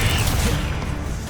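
Confringo blasting spell bursting in Hogwarts Legacy, a short, loud, dense explosive crackle that fills the moment without any speech.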